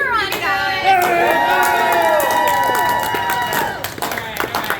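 Audience at a ramen-eating contest cheering a contestant on, a sustained crowd roar with whoops and shouts, loud and close, voices rising and falling and thinning out toward the end.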